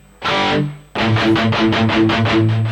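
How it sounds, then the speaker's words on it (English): An electric guitar through a Rocktron Prophesy on its Stadium reverb setting plays a sustained chord, then a run of repeated picked notes, washed in a big, spacious reverb that rings out. "Let's add a little bit more reverb. Hall A, Hall B, Stadium."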